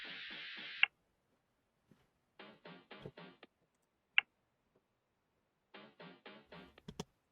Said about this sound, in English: And then the next sound is the percussion